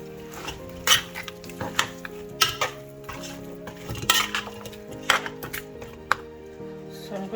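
A spoon stirs yam and goat meat pepper soup in a pot, with irregular metallic scrapes and clinks against the pot sides over a low kitchen hum and faint tonal background.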